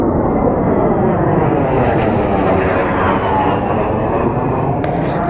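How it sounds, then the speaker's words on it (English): Several F-18 fighter jets pass overhead with a loud, steady, continuous engine roar that fills the whole stretch without a break, heard at an outdoor aircraft display. "Some F-18s flying overhead right now."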